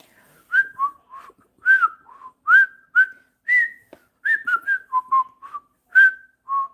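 A person whistles a wavering tune alone, in short separate notes that rise and fall, close and fairly clear, with no talk over it.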